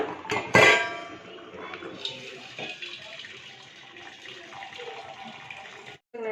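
Hot water is poured off a pot of boiled beans into a sink in a close, splashing gush, with a clatter of the pot at the start and a steady stream that runs until it cuts off near the end.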